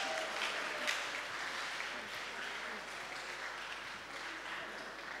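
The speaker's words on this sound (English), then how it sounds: "Give them another round of applause." Audience applauding competitors at a receptionist competition, a broad sustained patter of clapping in a large hall, moderately distant and fairly even, slowly easing toward the end.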